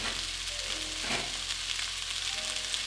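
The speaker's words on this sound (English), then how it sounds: "Stir-frying the vegetables first helps prevent them from falling apart." Vegetables sizzle and crackle steadily in a hot pan, with a brief scrape of stirring partway through.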